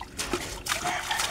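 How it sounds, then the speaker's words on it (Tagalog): A small child splashes and dribbles water while bathing, short irregular splashes and trickles close by over about a second, fairly quiet. "Oh, nagtatampisaw sa tubig."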